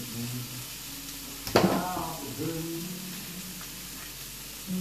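Onions brown in a frying pan for beef stroganoff with a soft, steady sizzle, a sudden louder burst of frying near the middle, and faint voices in the background.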